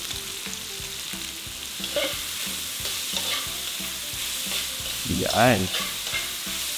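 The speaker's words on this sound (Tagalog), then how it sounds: "Gigisa na nga tayo." Spring onion whites and onion sautéed in garlic-flavored oil for arroz caldo give a continuous close sizzle with stirring scrapes, and a voice speaks briefly near the end.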